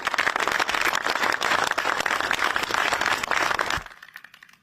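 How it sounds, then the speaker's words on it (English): Audience applause from a crowd at a London political event on housing plans: a dense, steady wash of clapping that fills the room for nearly four seconds, then cuts off and fades to quiet. "Let's please have a round of applause for Anthony, Fiona and Baroness Taylor."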